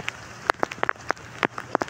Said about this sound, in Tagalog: Ayan, umuulan na naman, no? Grabe, umuulan, umaaraw.